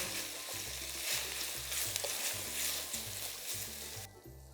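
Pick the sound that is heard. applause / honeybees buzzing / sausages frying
sausages frying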